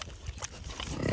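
A farm pig at an animal sanctuary grunts repeatedly and fairly loudly up close, with low snorting bursts building toward the end.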